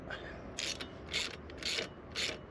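A ratchet tightens SW Motech crash bar bolts on a BMW R1300GS, giving four quiet, evenly spaced bursts of clicking over a low background, with no talking.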